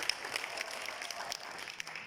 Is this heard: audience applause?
yes